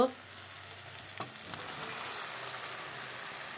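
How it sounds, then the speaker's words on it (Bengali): Tomatoes poured into sizzling fried spice paste in hot oil for a tomato and fish curry, a sharp hiss as they go in, then steady frying and stirring sizzle throughout. "এখন আমি টমেটোগুলো ঢেলে দেব।"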